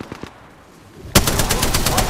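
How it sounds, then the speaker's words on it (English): Gunfire in the video game Apex Legends: a few faint shots, then a loud, close burst of rapid automatic fire that rattles on to the end. "Getting shot at."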